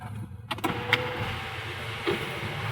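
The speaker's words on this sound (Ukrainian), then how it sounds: "У нас люк можна відкрити." A low electric motor whirs steadily inside a BMW 328i F30, with a couple of soft clicks and thumps as the sunroof panel slides open overhead.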